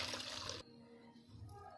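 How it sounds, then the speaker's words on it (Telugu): Water poured into Ugadi pachadi, a brief bright splashing gush that stops abruptly, leaving a quiet room. "కొంచెం వాటర్ పోసుకోవాలి."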